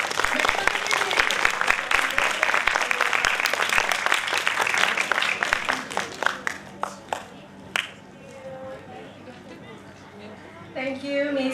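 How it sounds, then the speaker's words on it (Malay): An audience at a kindergarten concert gives a long round of dense, steady applause that thins out into scattered claps and murmuring chatter, with a voice coming in near the end. "a very big round of applause, please, for your principal and teachers"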